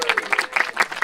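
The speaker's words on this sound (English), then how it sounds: "We just want to give you a big round of applause and a great thank you." A small group at an afternoon home gathering gives a brief burst of clapping, individual claps close and distinct in an uneven rhythm.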